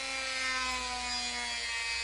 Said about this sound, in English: you take a Dremel and simply